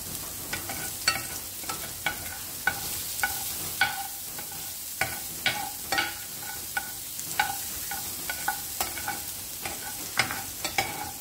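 Garlic sautéing in a pan while cooking alamang with pork, a steady close sizzle punctuated by regular sharp clinks and scrapes of a utensil stirring against the pan.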